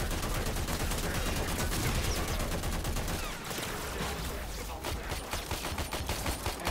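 Sustained assault rifle gunfire in the sci-fi shooter game Warframe, a dense rapid stream of shots that thins into scattered bursts near the end, loud and close with no talk over it.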